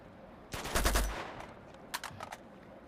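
Gunfire in the action game Uncharted 2: Among Thieves comes as a short burst of rapid shots with a low thump, followed a second later by a few fainter, scattered pops.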